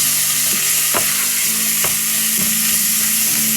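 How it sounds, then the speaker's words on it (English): Mince browning in a hot pan gives off a loud, constant hiss and sizzle, broken by occasional scrapes from stirring a few times across the stretch, close up with no talking. "So you need to brown the mince"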